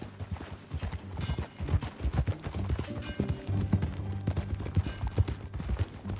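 Horse hooves clip-clopping steadily while riding in Red Dead Redemption 2, a continuous rhythmic clatter close by with faint game ambience around it.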